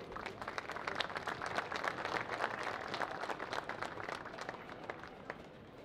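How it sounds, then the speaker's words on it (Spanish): Applause from a crowd at a rodeo event, a dense rapid patter of many hands at a distance, steady and moderately loud, tapering slightly near the end with no voices over it. "Para todo ello les pido un fuerte y cariñoso aplauso."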